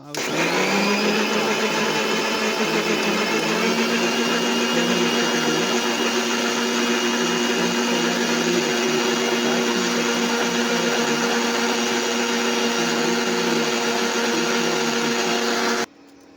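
An electric blender grinds strawberries with milk for juice, a loud, steady, high whirring drone that runs unbroken for about sixteen seconds and then cuts off abruptly.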